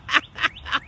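Three short bird calls sound outdoors at an even rhythm, each a sharp, fairly close call, with only a faint low background between them.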